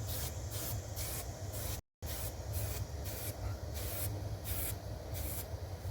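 A spray paint can lays light coats on a Kawasaki Vulcan motorcycle tank in a run of short, close, hissing bursts with a brief gap between sprays.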